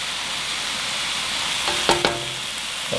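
Carrots, celery and garlic sizzle in a pan for Japanese fried rice, a steady close hiss with a couple of sharp utensil clinks near the end and no talking.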